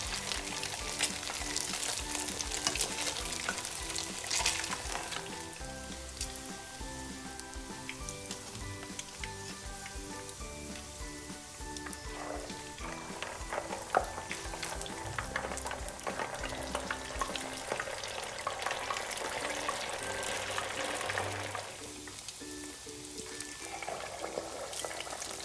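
Pempek fish cakes with mozzarella cheese fry in hot oil, giving a steady close sizzle and crackle with occasional stirring clinks throughout.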